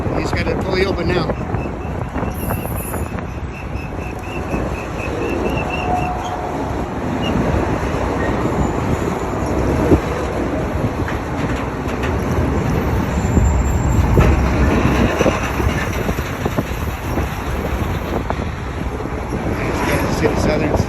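Freight train rail cars, including CSX cars, roll past close by in a continuous loud rumble and clatter of wheels for the whole stretch, with wind buffeting the microphone and a voice talking now and then.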